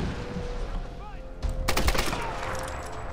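Gunfire in the Tomb Raider video game: a sharp burst of shots lands near the middle, followed by a dense rattle of rapid fire over continuous game sound and music.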